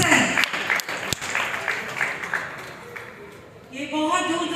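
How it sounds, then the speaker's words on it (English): Applause breaks out for the second-place finisher at an international FIDE-rated open chess tournament, a crowd clapping steadily with a voice talking over it and the clapping rising again near the end. "A big round of applause to Srivatsan."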